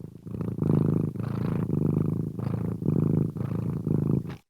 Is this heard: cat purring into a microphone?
yes